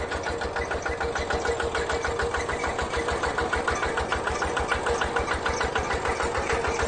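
A used 2011 KRT140 Plus walk-behind farm tractor's engine idles steadily nearby with an even, fast chugging beat and mechanical clatter, heard alone with no talking.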